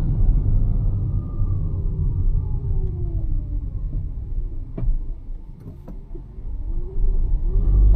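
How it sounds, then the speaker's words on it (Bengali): A hybrid car's engine comes back on during driving, a low steady rumble with faint rising and falling whine and a couple of brief ticks, heard from inside the cabin. "আচ্ছা, এখন আবার ইঞ্জিন অন হয়েছে।"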